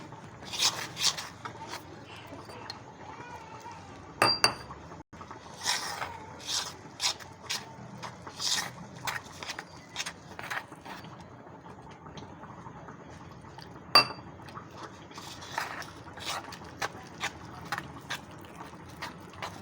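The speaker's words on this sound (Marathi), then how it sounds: "आता जरा आपण मिक्स करूया थोडंसं पाणी टाकूया" Drumstick bhaji batter is mixed by hand in a bowl with a little water, giving soft wet squelching and scraping in irregular strokes, with a couple of sharper clicks, fairly quiet and close.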